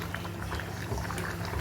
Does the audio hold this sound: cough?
no